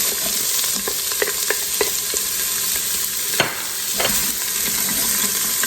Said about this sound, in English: Just want to saute these together for a few minutes.